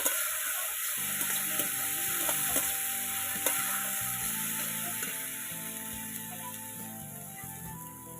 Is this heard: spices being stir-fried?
yes